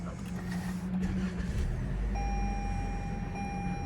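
A 2021 Toyota RAV4 with a 2.5-liter naturally aspirated four-cylinder starts up, a low steady engine rumble settling in close by, with a sustained electronic chime tone sounding over it partway through.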